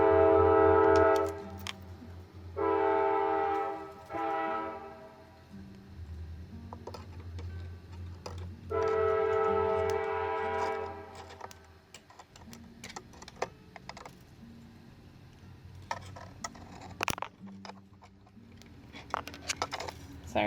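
A passing train sounds its loud horn in repeated long blasts, spaced a couple of seconds apart, then rumbles away, with light clicking and tapping heard in the foreground.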